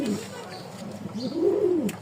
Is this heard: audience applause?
no